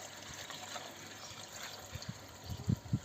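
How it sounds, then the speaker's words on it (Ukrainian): Water trickling and gushing as a heating system is filled after winter, a continuous near flow with a few louder gurgling bursts toward the end, no voices. "Заливав, заливка води."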